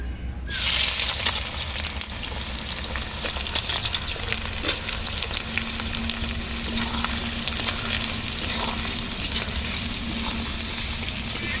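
Sliced onions dropped into hot oil for a chicken curry, sizzling up suddenly and then crackling steadily and loudly, with occasional stirring scrapes and a faint low hum underneath.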